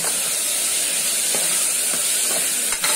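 Chopped beans stirred in a hot pan over a steady frying sizzle, with a few soft scraping stir strokes standing out from the continuous hiss.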